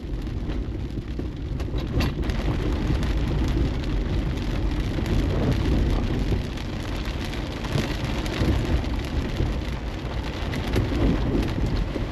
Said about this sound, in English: I can no longer see the mountain, it's just rain.